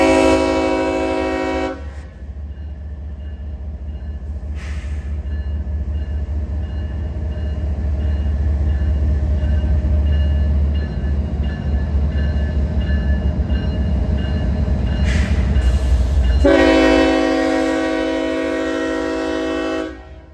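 A train horn sounds loudly, then a heavy freight train rumbles past in Montgomery for a long stretch before the horn blasts again near the end.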